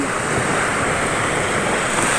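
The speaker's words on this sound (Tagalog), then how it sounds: "Ayan po ang karagatan." Sea waves at a beach roll in as a loud, steady wash of surf close by, with a constant broad hiss and some wind buffeting and no voices.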